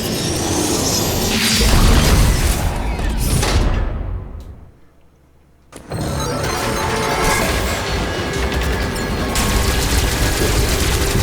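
Omega Blaster firing in Metroid Dread: a huge roaring blast and crashing impact that builds, cuts out into near silence, then erupts again into a sustained loud roar.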